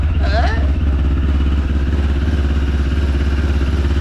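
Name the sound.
motorcycle engine running rough with rattling number plate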